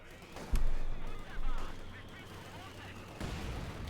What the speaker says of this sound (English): More heavy mortar fire